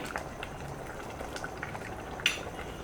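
Koduva fish curry boiling in a pot, a soft steady bubbling with scattered small pops and one brief clink of utensil or pot near the end, close and fairly quiet.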